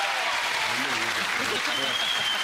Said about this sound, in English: give him a nice round of applause, folks